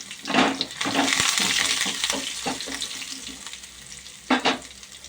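Curry leaves and asafoetida frying in hot oil for a cucumber yogurt chutney tempering: a loud burst of crackling sizzle, a steadier frying hiss with spoon stirring, then another sharp sizzle near the end.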